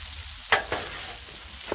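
Shrimp fried rice stirred on a Blackstone griddle, a low frying sizzle broken by two quick spatula scrapes close together and one lighter tap near the end.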